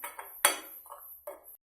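A spoon clinks and scrapes against a bowl while gram flour, cornflour, salt and ground cumin are mixed for jute leaf pakora batter, in a few short, close bursts separated by pauses.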